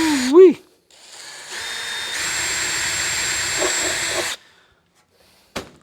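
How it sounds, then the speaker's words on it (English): A sharp drill bit bores into sheet metal at a workbench, a steady whining grind of about three seconds after a brief vocal whoop, stopping abruptly. "I love a good sharp drill bit."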